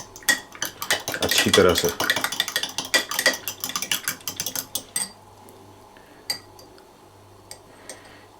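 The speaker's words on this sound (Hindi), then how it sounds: "अब हम क्विकली इसको एक दफ़ा स्टर कर लेंगे" A fermenting tomato seed mixture is stirred briskly in a container, giving a burst of clinks and scraping for a few seconds before it goes mostly quiet with a few isolated taps. A person speaks briefly.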